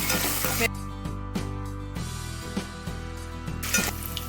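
Cashews, dry fruits and black gram lentils fry in hot oil in a pan for Ugadi mango pulihora, a close, steady sizzle broken by the rhythmic scrape and clatter of stirring.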